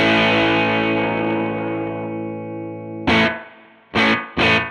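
A Benson Amps Deep Sea Diver fuzz-echo pedal sustains a loud distorted guitar chord that slowly decays, followed by three short, bright repeating bursts of fuzzy echo with no talking.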